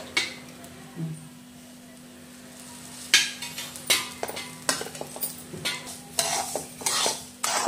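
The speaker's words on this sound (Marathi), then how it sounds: "आता आपल्याला एका कढईमध्ये थोडंसं तेल टाकून सनी भाजून घ्यायचं आहे चांगलं।" Dry semolina roasting in a little oil in a wok for upma, with a spoon scraping and stirring in irregular bursts, near and moderately loud, with quiet pauses between strokes.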